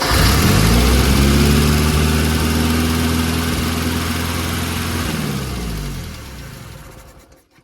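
A Mitsubishi Pajero's 4G54 engine, which has timing chain trouble, races at high revs with the throttle stuck open. It makes a loud, steady drone close by, then winds down as it dies away near the end.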